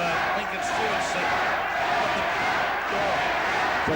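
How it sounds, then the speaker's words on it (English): Boxing crowd at an OBA International Lightweight Title fight chanting for Lincoln Stewart, a dense, continuous roar of many voices filling the hall with steady loudness, slight dips and swells, and a commentator's voice faintly mixed in. "Big chant for Lincoln Stewart, Lincoln. And now the crowd going berserk here"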